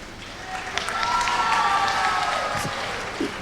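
Audience clapping in a hall at a Tamil speech event, a steady wash of applause lasting a few seconds at moderate level, with a faint murmur of crowd voices underneath.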